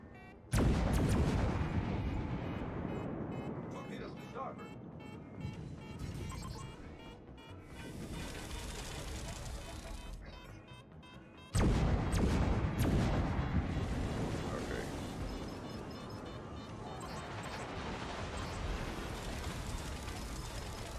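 Naval guns from the cruiser Moskva in World of Warships fire armor-piercing shells in two heavy, booming salvos several seconds apart, each followed by a long rumbling roar and sea-like wash.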